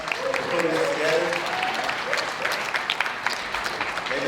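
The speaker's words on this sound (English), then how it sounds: "I want to thank everybody to give a round of applause for Melissa and AHEC" Audience applause at a Black Men in White Coats summit in Chicago, a steady wash of clapping from a crowd with voices and murmurs mixed in throughout.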